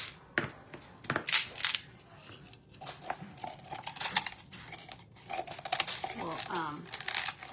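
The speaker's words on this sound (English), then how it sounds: "I'm gonna use my scissors here." Scissors cutting a small tin can in half, with irregular crunching snips and metallic crinkling scattered through, close and moderately loud, interleaved with soft speech.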